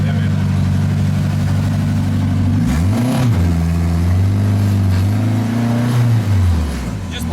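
A 600-horsepower Honda-powered Smart Car pulling out of a shop, its engine idling loud and close, then revving up and easing back in pitch as it rolls off, with a voice briefly under it.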